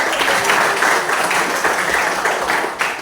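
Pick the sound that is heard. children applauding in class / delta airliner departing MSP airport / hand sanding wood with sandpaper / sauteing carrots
children applauding in class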